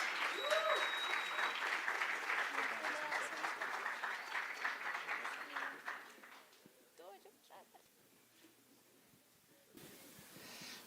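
An audience at a physics lecture event applauds to welcome a professor, starting fairly loud and then thinning out to scattered claps near the middle, with faint voices afterward.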